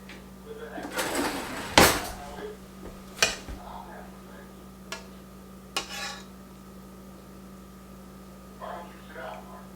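A kitchen drawer is opened and a spoon pulled out while potato soup is being made, giving a sharp metallic rattle of cutlery followed by a few softer clinks and knocks, close by and fairly quiet.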